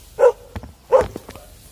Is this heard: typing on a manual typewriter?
no